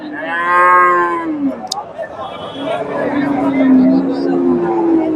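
Friesian cattle at the Dhap cattle market low loudly nearby, one long moo at the start and another drawn-out call later, amid crowd chatter and people talking.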